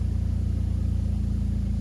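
A Ford Fiesta ST engine idling steadily up close after a carbon cleaning, a low, even rumbling hum with a regular pulsing throb.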